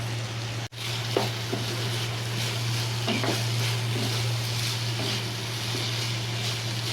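Pre-fried sweet corn kernels tossed into a pan with soy sauce, giving a constant sizzle with scattered pops and stirring scrapes over a low steady hum.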